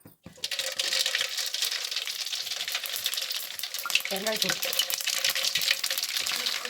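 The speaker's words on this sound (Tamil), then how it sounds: "எண்ணெய் காஞ்சிருச்சு கடுகு கடுகு தேவையான அளவு போட்டுக்கிட்டு" Mustard seeds drop into hot oil for a citron pickle tempering, and a dense, continuous crackle and sputter starts right away. It stays loud and close for several seconds while a faint voice briefly murmurs in the background.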